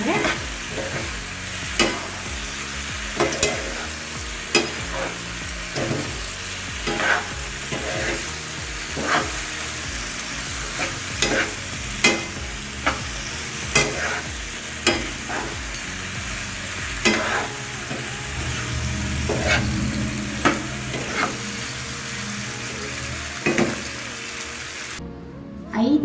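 Vegetable pasta is stirred in a hot pan, with a constant close sizzle broken by regular scraping and clacking strokes of a spoon roughly every second, no voices.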